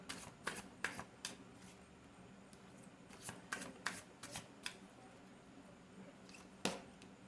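Playing cards are shuffled and flicked in quiet, crisp bursts of sharp snaps that come at irregular intervals across the stretch.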